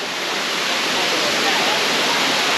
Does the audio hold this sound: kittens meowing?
no